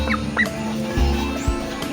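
Backyard bloodline chicken, a green-legged hatch gamefowl, clucking in short close bursts over a steady low background hum.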